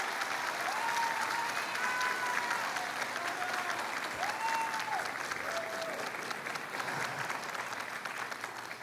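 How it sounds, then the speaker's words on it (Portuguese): A church congregation breaks into sustained applause to welcome a speaker, a dense, even clapping that runs throughout, with a few faint voices and high calls rising over it. "Vamos recebê-la com uma salva de palmas"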